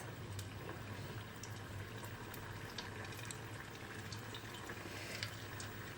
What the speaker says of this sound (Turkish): orta ateşte güzelce kızartın